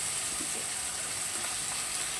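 Spices fry in hot oil in a pan, giving a soft, even, continuous sizzle that stays faint and steady, with no voices over it.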